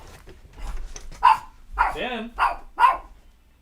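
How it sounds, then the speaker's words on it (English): Pet dog named Finn barking close by, several sharp barks and a yelping whine in an uneven sequence, with a person speaking briefly between them. "This is my doggy, Finn."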